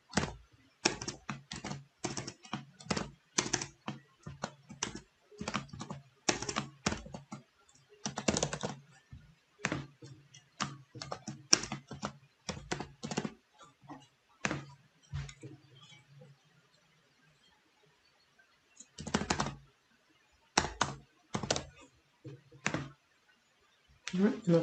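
Password being typed on a computer keyboard: quick bursts of close, crisp keystrokes in uneven runs, with a pause partway through before more typing resumes; a voice talks at times.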